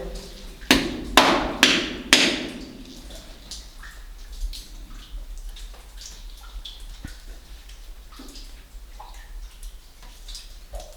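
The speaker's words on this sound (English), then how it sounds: "I'm gonna knock a couple more times." Three quick knocks on a wooden coal mine chute in the No. 9 coal mine ring out near the start, followed by a long quiet stretch of faint drips, taps and soft tunnel ambience.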